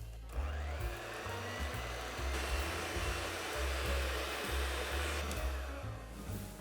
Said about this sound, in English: And now I'm going to mix this together until it thickens up.